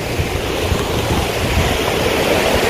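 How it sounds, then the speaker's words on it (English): Strong high-tide ocean waves at a marine sanctuary roar in a loud, continuous wash of surf, rumbling low and steady with wind noise and no voices. "At this moment, the waves gets even stronger because it's going to be high tide."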